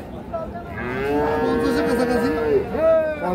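A cow at a rural cattle market moos in one long, loud, drawn-out call, then gives a shorter second low close by, over a steady murmur of market background noise.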